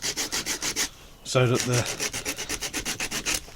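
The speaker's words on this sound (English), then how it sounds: "Then I'll start sanding" Close, rhythmic back-and-forth sanding strokes on the edges of a leather dagger sheath, pausing briefly while a voice speaks, then resuming at an even pace.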